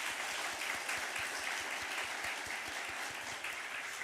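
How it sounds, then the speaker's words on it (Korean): A church congregation gives big, steady applause celebrating new baptized members during a Sunday worship service, a soft, continuous wash of clapping heard at a distance. "우리 큰 박수로 축하해 주십시오."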